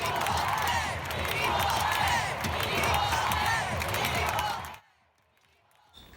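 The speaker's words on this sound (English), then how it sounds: "the crowd began chanting equal pay" Stadium crowd after the USA–Netherlands women's World Cup final, a dense roaring mass of voices with rhythmic chanting and cheering that holds steady for several seconds, then cuts abruptly to near silence.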